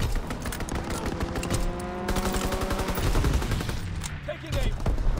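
Rapid gunfire from a strafing run in a military video game, a dense sustained burst of loud, overlapping shots running the whole time, with game voice callouts underneath.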